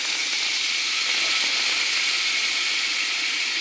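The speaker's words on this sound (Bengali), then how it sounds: "মশলাটা ভালো করে কষে নিই। একটু জল দিয়ে দেব।" Water is poured into a spice paste frying in a pan for a Bengali fish kalia, and a loud, even hiss of sizzling steam holds steady throughout.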